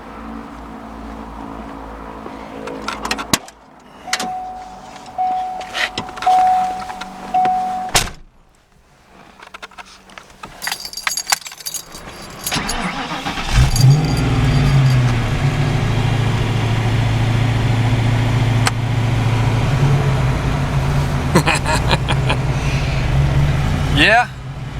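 A 1986 Mustang GT at night: door and switch clicks first, then a loud, steady engine rumble builds and holds as the car pulls away and drives.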